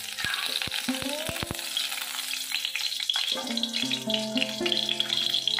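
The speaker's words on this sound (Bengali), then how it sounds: "পাঁচ ফোড়ন দিয়ে দিলাম। ফোড়নটা একটু ভেজে নেব।" Panch phoron spices frying in mustard oil in a wok, with a steady close sizzle, a run of sharp clicks and taps at the start, and later some tonal clinks, all with no talking.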